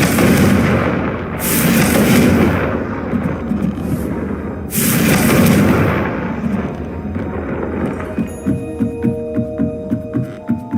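A Confringo blasting curse in Hogwarts Legacy: loud, deep booming blasts with long rumbling tails, followed by a run of quicker, rhythmic thuds and a lingering tonal hum.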